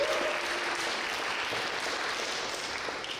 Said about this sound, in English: Round of applause for our partners.